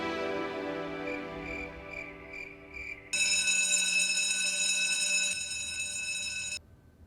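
An alarm rings in a bedroom at night, starting as a repeating pulsed chime and then switching to a steady, loud electronic ring that continues for several seconds before cutting off, with no talking.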